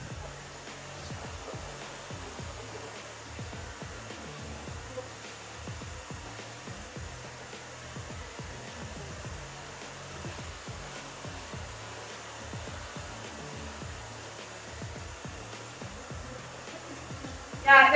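A hair dryer blows steadily as it dries hair, giving a constant close whirring rush that runs throughout with no pauses.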